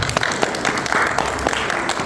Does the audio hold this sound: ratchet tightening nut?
no